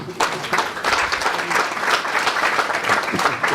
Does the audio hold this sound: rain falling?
no